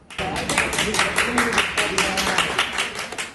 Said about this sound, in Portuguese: Sob palmas, as vacinas foram descarregadas.